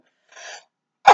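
A single sharp sneeze, loud and close, preceded by a short breathy intake, in an otherwise quiet room during a read-aloud book session.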